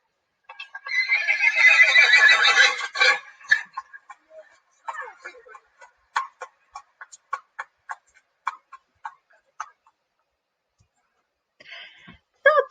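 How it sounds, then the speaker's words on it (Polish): A horse neighs and whinnies in a farm animal sound-guessing game, a loud drawn-out whinny followed by a run of short snorting nickers and breathy bursts, then a faint call near the end, with otherwise silent pauses. "Tak, to był koń."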